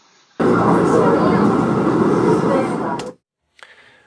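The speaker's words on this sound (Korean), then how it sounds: "시끄러운 지하철 환경에서 통화를 한다면 아마도 이런 소리를 기대하실 수 있을 겁니다." Loud subway train noise picked up during a phone-call test on Bose Sport Earbuds, a dense, steady roar that starts abruptly, holds for under three seconds, then cuts off into near silence.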